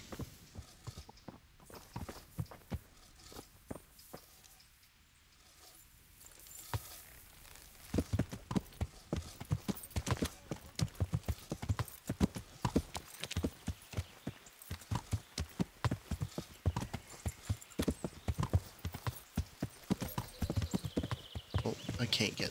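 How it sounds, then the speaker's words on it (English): A horse's hooves clip-clop steadily in Kingdom Come: Deliverance, a quiet start followed by a continuous close, loud rhythmic walking for most of the stretch, with a brief whinny-like sound and talk mixed in. "Okay, let's call my horse."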